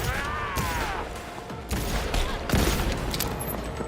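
Rapid gunfire from Cyberpunk 2077 bursts in dense, repeated volleys throughout, loud and close, with a brief voice near the start.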